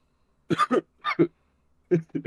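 Several short coughs in quick bursts, close and fairly loud, with brief pauses between them.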